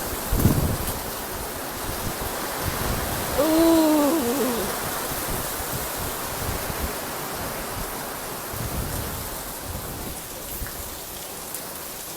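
Rain falls outside in a steady, dense hiss with a continuous wash of drops, and a person lets out a brief exclamation early on.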